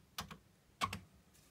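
Keystrokes on a Commodore 64 keyboard typing a load command, in two short clusters of a couple of clicks each, fairly close and distinct against a quiet background.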